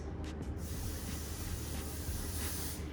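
Hairspray misted onto freshly styled, lifted hair: a steady, soft aerosol hiss lasting about three seconds after a couple of brief initial puffs, fairly quiet and close.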